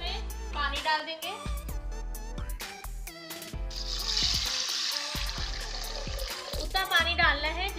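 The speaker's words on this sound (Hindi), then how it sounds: "अब हम इसमें पानी डाल देंगे।" Water is poured into a pressure cooker holding washed black lentils for dal makhani, a steady hissing splash over a few seconds, mixed with a voice and other kitchen sound.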